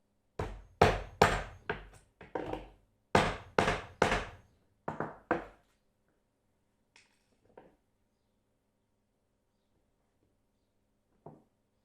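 A nail is driven into wood with a hammer in a series of sharp, loud strikes at an uneven rhythm, first in quick clusters and then in a few lighter, sparser taps separated by silence.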